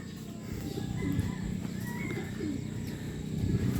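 Racing pigeons coo in soft, low, rolling calls close by, with faint chirps and light rustling in a quiet loft.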